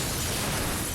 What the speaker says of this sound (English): just in time for a CG-generated image of the building exploding